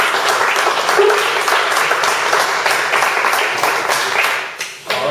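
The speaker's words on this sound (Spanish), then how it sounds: "O sea, te damos un aplauso, ¿no?" Audience at a scientific society lecture in Mérida applauding steadily and densely, a sustained wash of clapping that holds for several seconds before thinning out near the end.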